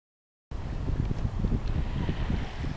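Strong wind gusting at Subic Bay on a kite-flying outing, a steady low roar of buffeting across the microphone from half a second in, loud and continuous with no voices.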